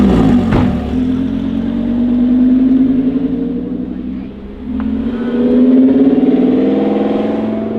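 A Lamborghini Huracan engine revving up twice, rising and falling in pitch, loud and close, with a brief mechanical click near the start and no speech.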